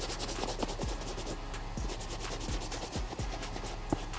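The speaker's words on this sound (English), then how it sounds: "I'm gonna go over it with a medium bristle brush that's dry" A dry medium-bristle brush scrubs the suede of a Jordan 4 sneaker, a steady close-up rasping rub with repeated quick brush strokes scratching across the nap, quiet and without talk.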